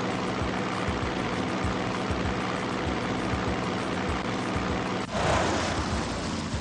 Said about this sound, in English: Tico is riding his airplane!